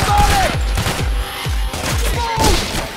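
Rapid bursts of gunfire in the heist shooter game Payday: The Heist, repeated punchy low shots in quick succession with brief pauses, loud and close, mixed with faint game effects.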